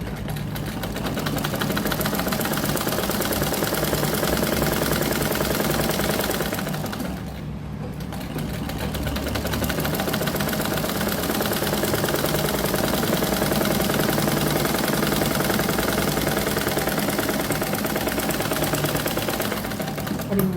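Sewing machine stitching the neck of a blouse, a steady fast mechanical whir running continuously, close and loud, with one brief pause partway through before it resumes.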